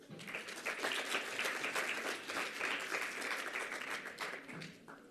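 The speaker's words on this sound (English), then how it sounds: "That certainly warrants another round of applause." Sustained applause from a large audience at a summit closing ceremony, thick and even clapping that holds for several seconds before tapering off at the close.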